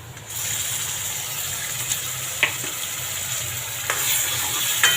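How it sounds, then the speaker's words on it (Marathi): Ground masala paste cooks with browned onions for a bangda fish curry, a steady close hiss of frying broken by a few light utensil taps. "वाटण परतून घेतो थोडंशी शिजू द्यायचं"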